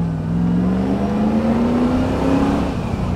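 A Morgan Plus 8 sports car's engine accelerates hard, a steady loud roar whose pitch climbs gradually over about three seconds with no talking over it.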